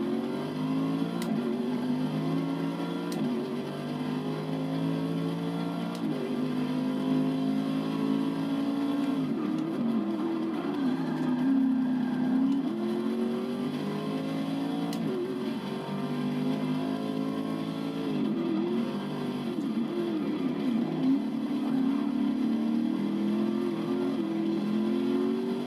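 A pack of race cars pulls away at the start of the Road Atlanta race in Forza Motorsport 6. Engines drone loudly and steadily as they rev and shift through gears, with overlapping tones climbing and dropping.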